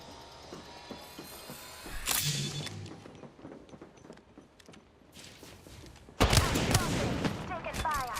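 Gunfire in an Apex Legends-style battle royale game: scattered shots and mechanical clicks, then a loud burst of rapid fire near the end, with movement sounds between.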